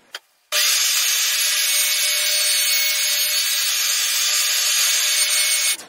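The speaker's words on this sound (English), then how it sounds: "I'm going to go to the router table and put a roundover on each of these" A router on a router table cuts a roundover along the top edges of small wooden bases for an animal-shaped phone stand, giving a loud, steady high-pitched whine that starts abruptly and holds for several seconds before cutting off.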